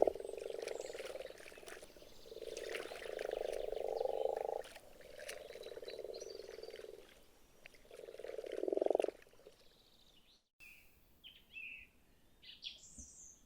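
Frogs croak in a forest in spring, giving repeated loud pulsing calls in several bursts. Faint bird chirps follow near the end.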